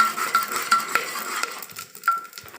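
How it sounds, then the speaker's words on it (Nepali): Whole garam masala spices, cinnamon, cloves and cardamom, stirred in a pot for a kukar biryani, with a scraping, faintly sizzling spoon scratching in short strokes, close and moderately loud, no voices. "यो सबै हामीले यहाँ हालेर यसलाई चाहिँ मिक्स गरेर मजासँग फेरि एकछिन"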